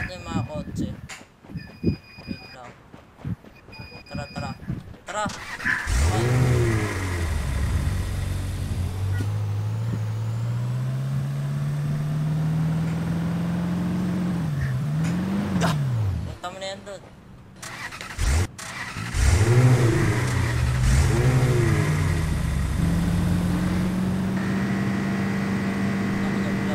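Vehicles in the Rules of Survival battle royale game start up and rev, with engine tones climbing and falling repeatedly across the stretch, close and loud, while players talk excitedly throughout.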